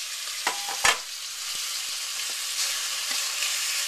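Meat sears and sizzles in a pan with a continuous close frying hiss, broken by a couple of brief clanks and scrapes near the start as the pieces are moved.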